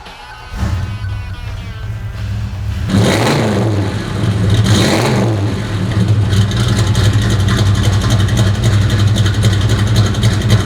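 A 1957 Chevrolet Bel Air engine cranks and catches, then revs up in two strong surges before settling into a loud, steady rumbling idle close by.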